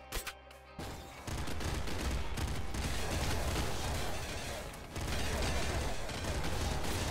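Dense, continuous barrage of game explosions and gunfire in Nuclear Throne (Ultra Mod), loud and rumbling throughout with a short break midway, no talking.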